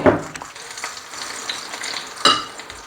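Thick, stodgy flour mixture for homemade spicy gravy is stirred in a hot pan, giving a close, soft sizzle with scraping and sticky sloshing, then a sharper scrape of the utensil near the end.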